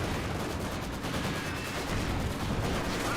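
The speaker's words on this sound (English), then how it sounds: "MG does a bit of fire there." Dense, continuous automatic weapons fire from a machine gun in the Company of Heroes 2 battle game, a steady rattling barrage with overlapping shots and no talk.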